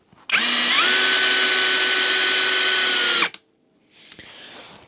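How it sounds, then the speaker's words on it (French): An Einhell Professional TP CD 18/80 Li BL cordless drill driver drives a thin 4 mm Torx screw at speed 1, a loud steady motor whine for about three seconds that stops abruptly, followed by faint handling noise. "en commençant par le vissage d'une vis relativement fine puisqu'elle fait 4 mm de diamètre"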